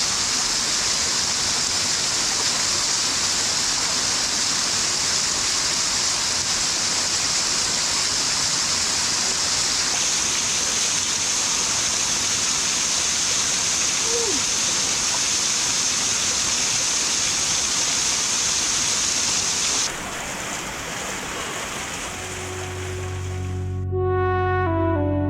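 Sing Sing Angin waterfall in Bali, a shaded spot under tall trees, roars in a steady broadband rush of falling water that fills the whole stretch, with a brief shift in tone near the end.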